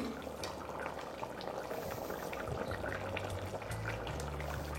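Mutton curry simmering in a pot for a Bengali-style curry gives a steady, close bubbling and gurgling wash that stays at an even level throughout, with low hum underneath and no voices.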